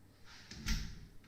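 A house storm door swings open and shuts, a soft creak building to a muffled thump and rattle near the middle, then a faint latch click, close by in a quiet room.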